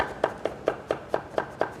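A knife julienning zucchini into 0.2 cm strips taps the board seven times in a quick, even rhythm, each chop crisp and close.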